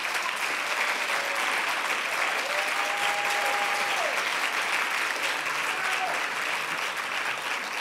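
Applause and cheering from a lecture audience in an auditorium, a sustained dense burst of clapping that holds steady and loud throughout with scattered shouts mixed in.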